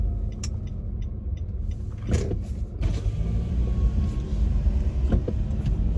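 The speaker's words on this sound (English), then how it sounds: "there's traffic all around my city, man" A steady low road rumble of surrounding city traffic heard from inside a car, with a few sharp clicks and thumps from the cabin breaking through now and then.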